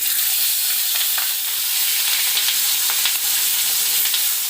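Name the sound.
bata fish frying in hot oil in a wok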